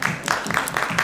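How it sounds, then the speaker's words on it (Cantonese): Audience applause at a dCS Varèse audio product press conference in a Hong Kong showroom, a steady round of clapping filling the short moment with a faint voice underneath. "掌聲歡迎。"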